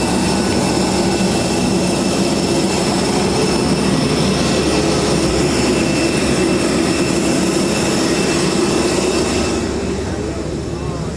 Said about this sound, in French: Avion pour Mumbai, let's go!